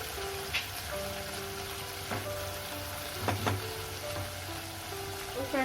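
Garlic-ginger paste frying in a pan of mixed vegetable sabzi, a steady close sizzle with scattered crackles and a few soft utensil taps throughout.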